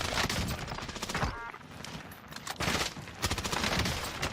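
Close-range weapon pre-firing in Warzone, a battle royale shooter: dense, rapid automatic gunfire bursts fill the start and end, with a brief lull in the middle, loud and continuous with no talk.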